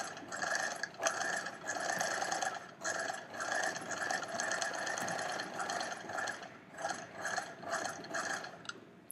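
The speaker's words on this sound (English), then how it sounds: "This will sew a line back to the start." Sewing machine stitching a buttonhole line on a skirt: steady, fast mechanical rattle of the needle running in several bursts with brief pauses between, close and fairly quiet.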